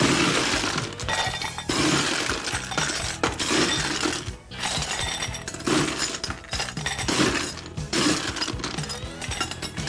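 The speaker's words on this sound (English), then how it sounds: "Then we take our glass and we add ice." Ice cubes rattle and clink sharply into a cocktail glass for a mint julep, a dense run of loud, bright clatters and tumbling chinks repeated in bursts, with no voice over them.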